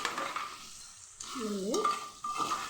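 A spatula scrapes and stirs thalakaya curry in a pan, giving close rasping strokes over a soft sizzle, with a short tonal sweep partway through.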